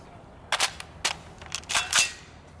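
A suppressed PWS MK116 Mod 2 AR-15 in 7.62x39 firing subsonic Bear rounds outdoors, giving a string of sharp, quiet pops spaced irregularly, about five or six shots, with no talking.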